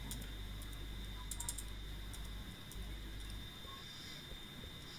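Typing on a computer keyboard gives faint, scattered clicks in brief clusters beneath a low, constant room hum, with no talking.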